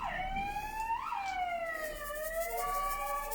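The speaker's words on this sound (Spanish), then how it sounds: "Viene una ambulancia" An ambulance siren wails in rising and falling sweeps as it passes outside, clear and moderately loud, with no talk over it.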